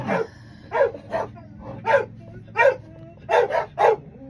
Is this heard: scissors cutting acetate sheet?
no